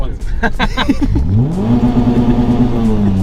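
A Peugeot 106 XSi engine revs hard and holds at the rev limiter, a sustained rising mechanical drone with a voice speaking briefly in French at the start.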